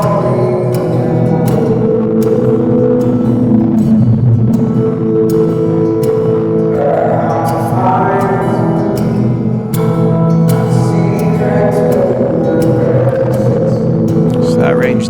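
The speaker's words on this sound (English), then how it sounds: "I'm going to open up an EQ behind the reverb and EQ just the reverb" Strummed acoustic guitar with a singing voice, washed in a soft, smoothed-out reverb with EQ applied only to the reverb, sitting back and steady throughout.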